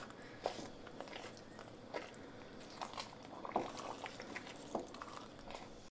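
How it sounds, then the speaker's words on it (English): Mole poblano sauce being stirred in a pot, quiet soft scraping and thick bubbling plops at irregular intervals, close and faint. "We're still stirring."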